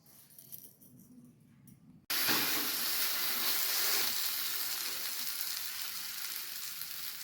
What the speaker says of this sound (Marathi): आता टाकते तव्यावर